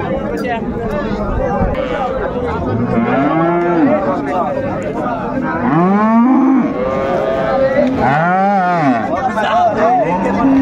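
Improved-breed dairy cows and calves low repeatedly at the Raniganj cattle market in Dinajpur, several drawn-out moos rising above a steady hubbub of people talking nearby.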